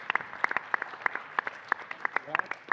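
Short burst of audience applause at a venture capital panel event, a modest crowd clapping with distinct individual claps, fairly faint and even, with a voice briefly audible.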